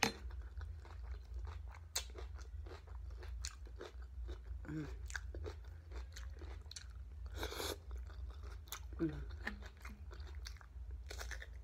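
Crisp, crunchy bites and wet chewing of cucumber during a mukbang, close and intimate against a quiet background, with several distinct crunches spread irregularly through the stretch.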